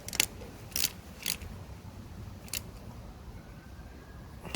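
Bolts on a bicycle kickstand are tightened with a tool, producing a few short, sharp metallic clicks and ratcheting bursts spaced irregularly against a low, steady background.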